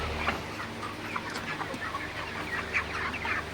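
A large flock of 35-day-old broiler chickens on a farm keeps up a constant chorus of clucking and chirping. The dense, even din continues throughout with no speech.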